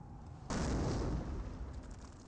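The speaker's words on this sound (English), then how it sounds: "I hear explosions." In the video game Company of Heroes 1, a heavy, rumbling boom hits suddenly after a brief quiet stretch, then a dense roar of blasts and debris lingers and slowly fades.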